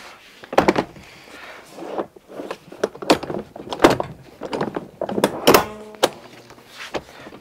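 Cybex Sirona car seat being swivelled on its base and clicked back into place, a close series of plastic clunks, thumps and latching clicks with brief rattles, loud and irregular, no talk.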